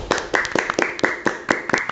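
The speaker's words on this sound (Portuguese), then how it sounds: "esse é o momento que a gente pode bater palmas para a Penny e para a Cannon" A small group claps hands in applause, a series of sharp irregular claps at close range, with no talk over them.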